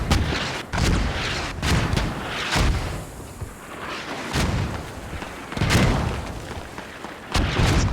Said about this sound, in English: Hab disabled by the mortars